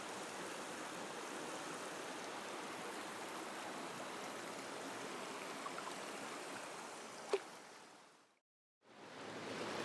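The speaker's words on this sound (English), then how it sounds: "This is called Mile 15 Hot Spring" Water at Mile 15 Hot Spring in the Idaho backcountry, a steady soft rushing and trickling flow heard close by, unbroken except for a brief drop near the end.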